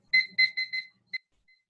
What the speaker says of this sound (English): I'm basically going to set my timer for 7 minutes at a time